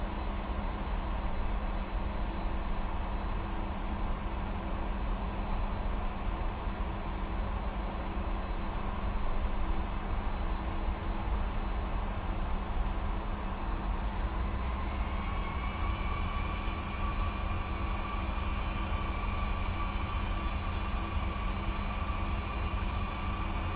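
Cargo aircraft engines spooling to takeoff thrust at the Detroit airport, heard from inside as a loud, steady broadband roar with a layered whine that climbs in pitch partway through.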